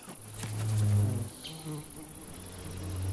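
An ivy bee buzzes close by, its drone rising and falling in pitch as it moves around, with a faint steady high tone in the background.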